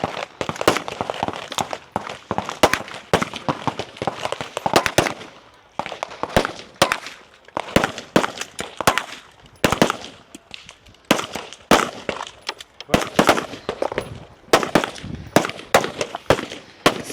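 Rapid sharp pistol shots at a CrossFit-style national elite competition stage, cracking out in dense irregular bursts with brief pauses between strings, loud and close, with no talk over them.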